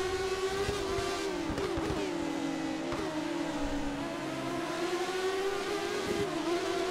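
Turbo-era Formula 1 cars racing in the F1 2013 video game, a steady droning engine whine that rises and falls slightly as the cars run together, loud and continuous with no talk.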